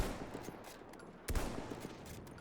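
Rapid bursts of gunfire in the Battlefield 1 video game, a fusillade of shots at moderate distance with one sharper, louder crack partway through, no talk over it.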